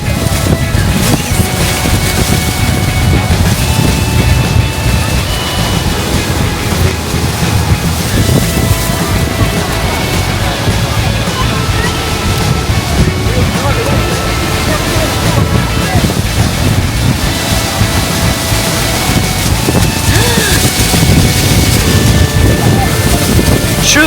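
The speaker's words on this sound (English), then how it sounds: "Super windy the closer we get to it." Strong wind near Niagara Falls roars and buffets the microphone steadily throughout, with a heavy low rumble and rushing noise, like being out on open water.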